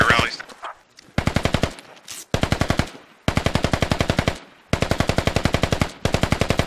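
Sustained bursts of automatic machine gun fire in the military shooter game Squad, close and loud, rattling in long rapid volleys with brief pauses between them.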